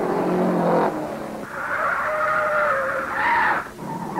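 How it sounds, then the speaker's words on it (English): A 1952 Indianapolis 500 race car with a locked rear wheel skids hard, its engine roaring and tires squealing in a sustained, loud, tonal scrub that shifts pitch over several seconds. "Something let go and his rear wheel's locked. Here he is at the end of a 700-foot skid."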